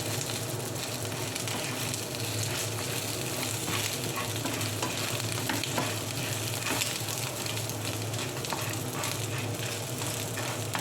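Coriander leaves and tamarind frying in a pan with coconut pieces for chana dal chutney, a steady dense sizzle with stirring scrapes running throughout, close and unbroken, no talking.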